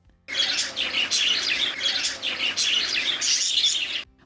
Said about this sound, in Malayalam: വിവിധ ഇനം കിളികൾ തുടങ്ങിയവയുമുണ്ട്